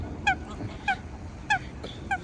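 Ducks honking in a series of about five sharp, nasal calls at a steady, unhurried pace, fairly close, over a low background hum.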